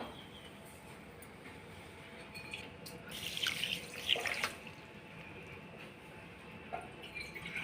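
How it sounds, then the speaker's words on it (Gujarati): Water poured onto sugar in a pan to make a syrup, a short close splash and trickle rising in the middle of the clip over quiet room noise, with no talk. "એને ડૂબે એટલું પાણી વેડવાનું છે"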